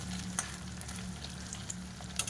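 Chicken pakora fries in oil in a pan with a quiet, steady sizzle and a few soft crackles and pops.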